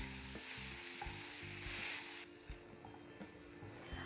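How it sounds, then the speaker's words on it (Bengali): Marinated chicken coated in ginger, garlic and onion paste sizzling in a pan while being stirred, a dense frying hiss broken by repeated scraping and clattering strokes of the spoon, close and fairly loud. "এবারে যে ম্যারিনেট করে রাখা চিকেনটা, সেটা দিয়ে দেবো"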